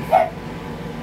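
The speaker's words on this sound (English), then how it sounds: "There goes the doggy." A single short dog bark, fairly close and clear, rises briefly over a quiet room tone and then fades, with no other voices.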